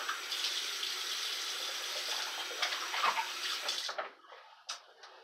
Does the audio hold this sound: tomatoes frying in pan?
no